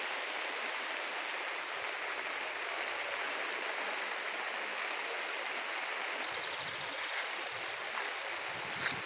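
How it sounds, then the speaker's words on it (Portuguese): Flooded Camaragibe Mirim river in Joaquim Gomes, Alagoas, rushing beneath a bridge, a steady broadband roar of churning water that stays constant and near throughout. "Esse é o famoso rio Camaragibe Mirim."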